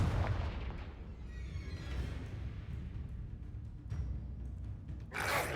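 Spell explosions in the video game Hogwarts Legacy: a muffled, booming blast followed by rumbling combat effects, ending in a sharp bright burst, fairly quiet overall.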